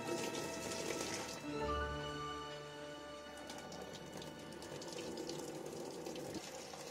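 Steady rush of water being drained from a pot of boiled noodles, a continuous gushing flow with a faint tonal ring for a moment, heard alone and fairly quiet.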